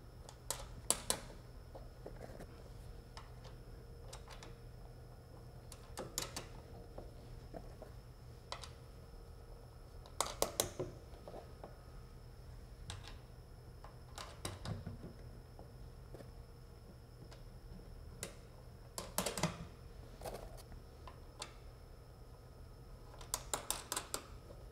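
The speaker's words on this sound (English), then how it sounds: "tightening all the screws" Screws being tightened on a smooth plate fitted into a wind tunnel: sparse, sharp clicks and short ratcheting bursts recur every few seconds over a steady low fan hum, with no talking.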